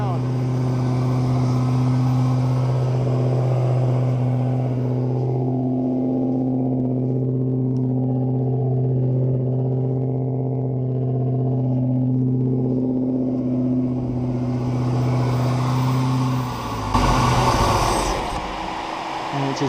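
A 1969 Buick Special Deluxe engine with fuel issues runs at a cold-choke fast idle, a steady near rumble that carries on for many seconds before stumbling and dying with a brief final burst.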